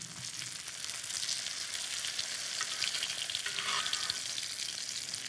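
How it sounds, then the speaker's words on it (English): Veal cutlets sautéing in melted butter in a pan, giving a continuous, even sizzle and hiss at close range with a faint scrape near the end; no speech. "And into the butter, add your cutlets."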